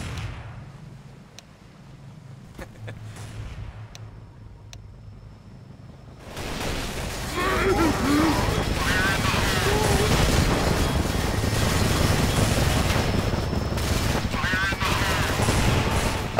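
Sustained gunfire from Counter-Strike: Source zombie escape on the Icecap map, a quiet stretch with scattered pops giving way after about six seconds to a loud, dense wash of continuous shooting and game noise, with voices talking over it.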